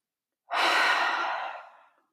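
A single deep breath, one loud and close exhalation lasting about a second and a half that fades out smoothly, heard alone.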